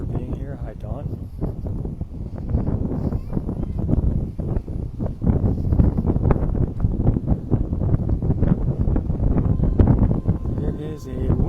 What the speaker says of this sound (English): It is a windy spot here.